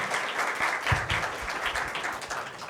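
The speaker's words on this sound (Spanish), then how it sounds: "Un aplauso, por favor, a estos tres personajes significativos de la comunidad." Applause from a corporate event audience for three panelists at a talent-management session, a dense, even roar of clapping for a few seconds, fairly loud and close, with faint murmuring beneath.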